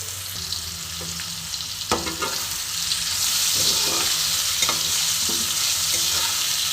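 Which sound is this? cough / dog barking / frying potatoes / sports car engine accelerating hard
frying potatoes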